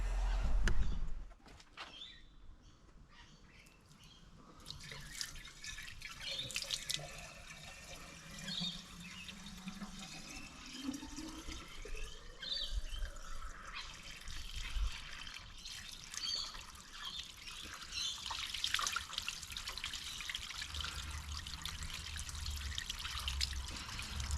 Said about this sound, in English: let's prime it up. We'll get some water in the housing